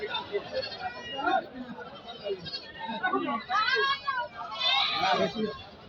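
At a busy Gazipur livestock market before Eid al-Adha, several goats bleat in repeated wavering bursts, the calls mixed with background chatter and the noise of a crowd.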